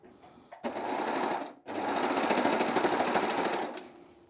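A Baby Lock Acclaim sewing machine stitches through four layers of fleece, running in a loud, steady whir that stops briefly after about a second and then hums on for several more seconds before easing off.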